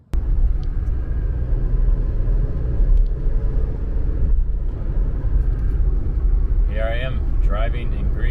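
Car driving on a road in Greece near Thessaloniki, a steady loud engine and road rumble running throughout, with a person's voice speaking briefly near the end.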